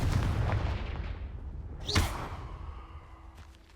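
Confringo blasting spell going off in Hogwarts Legacy: a loud whooshing burst around the middle, over a rumbling game background that fades out.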